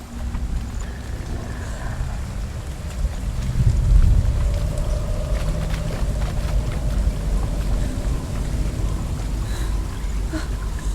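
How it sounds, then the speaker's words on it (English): Wind in the video game Hellblade: Senua's Sacrifice, a steady, rushing roar with a low rumble that swells around the midpoint and then holds at an even level. "Yeah, the wind."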